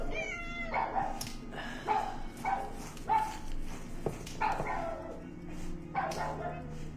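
A dog in Assassin's Creed IV Black Flag barks and yips in a steady series of short calls, mixed with a cat's cries and a person talking over them.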